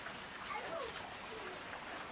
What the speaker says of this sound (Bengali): প্রচণ্ড বৃষ্টি হচ্ছে এদিকে।